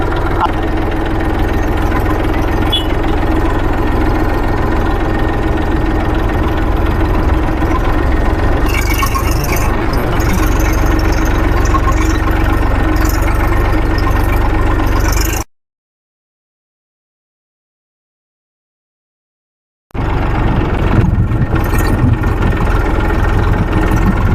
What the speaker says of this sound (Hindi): आज पहली बार मैं ट्रैक्टर चलाने जा रहा हूँ